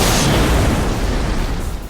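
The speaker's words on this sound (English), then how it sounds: "A series of huge explosions go off" A series of huge explosions in a tabletop role-playing game scene: a loud, deep explosive roar rolls out and slowly fades over about two seconds.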